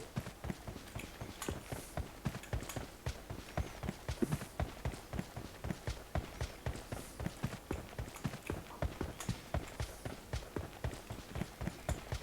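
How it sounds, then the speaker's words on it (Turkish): Enemy player's footsteps in an online shooter game, a steady run of rhythmic thudding steps repeating for the whole stretch, fairly close and clear, with no talk. "Yabancı bir ayak sesi aldım hafiften ama tam olarak nerede çözemedim"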